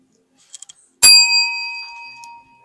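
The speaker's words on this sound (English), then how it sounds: "Pam Metz, that bell was for you." A single bell is struck once during a live jewelry shopping broadcast, a bright ringing tone that decays slowly over about a second and a half, preceded by a few faint soft clicks.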